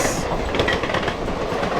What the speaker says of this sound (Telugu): పాండుచేరి నుంచి కాకినాడ వరకు వెళ్ళే సర్కార్ ఎక్స్ప్రెస్ అది